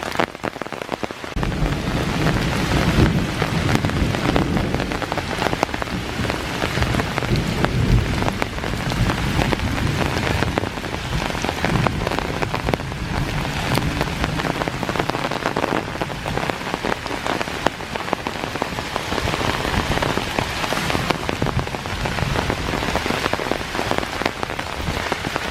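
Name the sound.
heavy rain falling during a thunderstorm in a park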